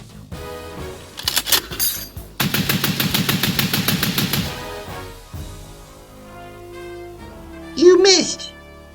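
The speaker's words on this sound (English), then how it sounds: "Would you just start shooting, for God's sake?" A toy machine gun rattles off a rapid, steady burst of sharp electronic shots after a couple of shorter bursts, close and loud, with a voice speaking briefly afterward.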